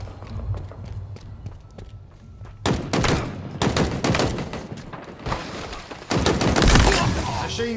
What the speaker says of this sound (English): Machine guns suit you, Spartan.